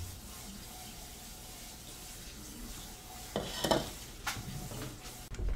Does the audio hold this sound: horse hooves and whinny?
no